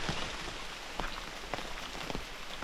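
Rain falls on a mountain summit on Mt Mantalingahan in Palawan, a steady soft hiss with scattered individual drop taps, fairly quiet and with no one talking.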